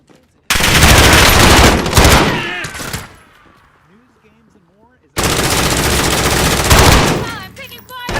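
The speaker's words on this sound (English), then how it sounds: "I'm taking fire!" Call of Duty Warzone gunfire: two loud, dense bursts of rapid automatic shooting, close and overpowering, separated by a quieter gap holding distant game sounds.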